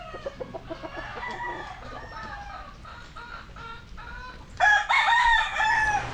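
Roosters crow repeatedly at a game fowl farm in Balamban, Cebu, where about 70 to 80 corded gamecocks are kept on 3,000 square meters; overlapping calls ring out near and far, swelling louder toward the end.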